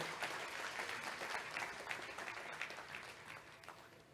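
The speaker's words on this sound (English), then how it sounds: "Let us give them a round of applause, ladies and gentlemen." Audience applause at a sustainability conference prize giving, a steady broad wash of many hands clapping at moderate distance, holding level throughout before easing slightly at the end.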